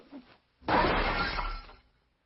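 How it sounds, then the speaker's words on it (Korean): A jade ring shatters as an arrow strikes it, a sudden loud crack of breaking stone or glass followed by scattering, ringing fragments that fade out over about a second. "주몽이 쏜 화살이 옥반지를 맞히자 옥이 깨지는 소리가 기왓장과 같았다고 서술하고 있습니다"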